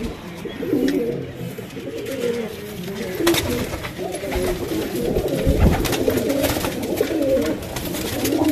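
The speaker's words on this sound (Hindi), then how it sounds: "ये शौक है। उड़ो कबूतर निकले सारे," Fighter pigeons coo in soft, throaty rolls near the listener, with wing flutters and a brief bird chirp over outdoor background noise, while someone talks intermittently.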